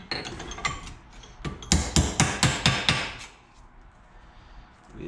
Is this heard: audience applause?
no